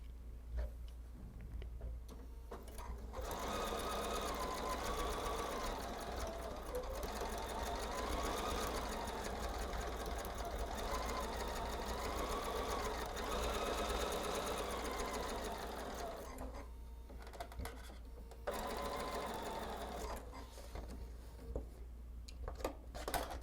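Sewing machine stitching a quilt block, a fast steady mechanical whir with ticking needle rhythm running for most of the stretch, with brief quieter pauses before and after.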